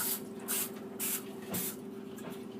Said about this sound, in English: And you should be spraying it over the sink.